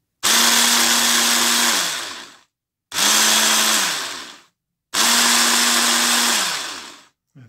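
A Fakir Vienta food processor whirs loudly in turbo mode in three separate bursts, each starting abruptly with a steady high-speed drone and winding down before a pause.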